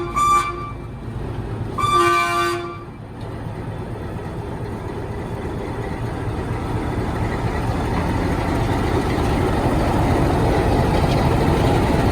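A train horn toots twice on the way to Ooty, then the rumble of a moving train builds steadily and grows louder, a continuous rolling roar close by.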